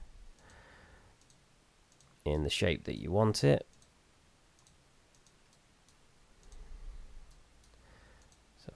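Faint, sparse mouse clicks sound while road points are placed on a landscape in Unreal Engine 4, with a short burst of nearby speech in the middle.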